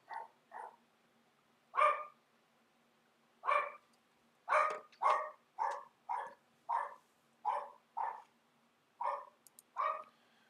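A dog barks in the Transformers: Earth Wars video game, about fifteen short, evenly spaced barks, some in quick pairs, loud and clear over a quiet background with no talk.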